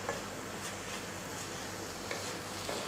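Avial, a Kerala mixed vegetable curry, being gently stirred in a pan, giving a steady soft scraping and sizzling texture with a few faint spoon ticks and no talking.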